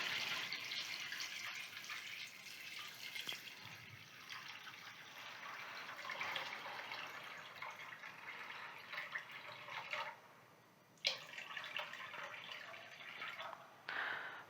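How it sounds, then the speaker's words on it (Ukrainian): Cold water runs steadily into a pot of salted chickpeas in a broad hiss for about ten seconds, then stops briefly and resumes in short bursts, fairly close with no talking. "заливаємо холодною водою"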